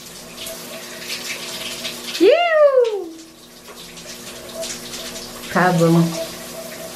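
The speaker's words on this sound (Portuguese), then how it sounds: "Parece que a água tá saindo mais gostosa aqui." Water runs from a newly installed home shower as a steady hiss, broken by a squealing, falling whine from the fixture and a short buzzing burst later, while a couple chat nearby.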